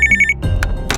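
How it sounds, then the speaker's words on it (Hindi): A telephone on a table rings in a short electronic trill, then gives a couple of louder bursts, heard close with nothing else behind it. "तभी अचानक टेबल पर रखे फोन की घंटी बजी।"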